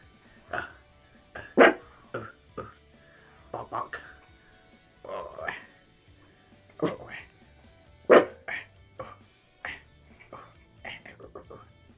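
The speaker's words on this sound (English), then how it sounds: "You're barking at nothing now, aren't you?" An old Staffordshire bull terrier barks in short, loud, irregular bursts, close by, with quiet gaps between the barks.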